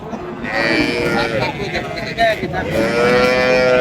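A cross Friesian dairy cow lows at a busy cattle market, its drawn-out moos rising over steady crowd chatter and nearby voices.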